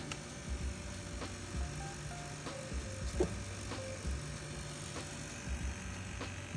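Arriflex 16S film camera on a Pluriboom motor with a 400-foot magazine runs with a quiet, steady mechanical whir and hum, punctuated by faint clicks, fairly close and alone.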